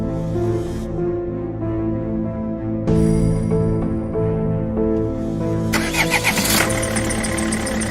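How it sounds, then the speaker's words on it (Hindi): A car engine turns over and idles steadily, then revs and accelerates as the car pulls away, the drive-off sound building louder toward the end with no voices. "गुल्ली बुल्ली गाड़ी में बैठकर शॉन के घर की तरफ निकल जाती हैं।"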